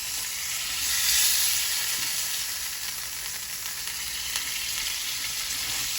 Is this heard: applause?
no